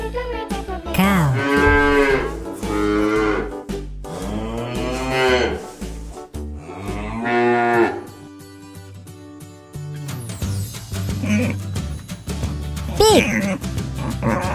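Three long, drawn-out cow moos ring out loudly, followed by a stretch of backing music.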